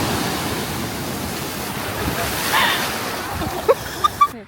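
Waves wash onto a small beach in Ericeira, Portugal, a steady broad surf roar with a swell rising midway, and a few short knocks near the end.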